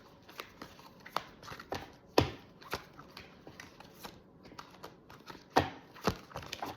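Modern Witch Tarot cards are shuffled by hand in a quiet room, a run of crisp, close riffling snaps and soft slides repeating irregularly, with a few sharper bursts standing out.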